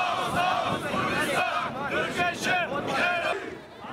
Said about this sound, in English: Crowds have gathered in cities across Europe to voice their anger over Turkey's military offensive.